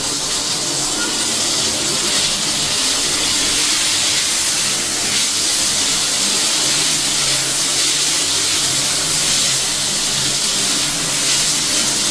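Cut potatoes and slit green chilies fry in hot oil with onion and garlic, giving a loud, steady, close sizzling hiss that runs unbroken throughout with no talking.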